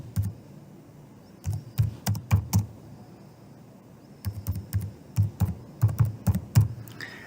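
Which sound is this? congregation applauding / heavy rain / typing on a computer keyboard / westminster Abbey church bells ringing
typing on a computer keyboard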